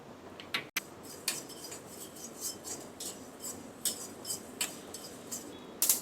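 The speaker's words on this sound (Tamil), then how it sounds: "இது மல்லி கொஞ்சம் பொரிஞ்சு வர்ற மாதிரி சவுண்டு கேட்கும்." Coriander seeds rattle and scrape in a metal pan as they are dry-roasted and stirred, with short irregular clinks and a faint crackle, close and fairly quiet.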